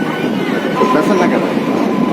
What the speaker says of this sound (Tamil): இப்போ வண்டி ஆவடியிலிருந்து புறப்பட்டுடுச்சு.